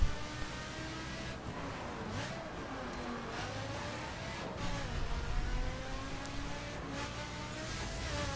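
Ferrari and Ford supercars race through corners in the video game The Crew, a steady engine drone with rising and falling revs and whirring tones running continuously at moderate level throughout.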